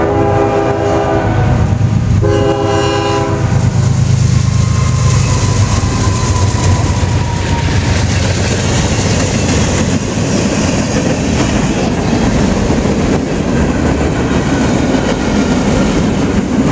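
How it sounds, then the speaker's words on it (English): A CSX westbound freight train passes close by, its horn blaring at the start, then a loud steady rumble of rolling wagons and wheel clatter that fills the rest. "have a CSX westbound train switching on to track 2"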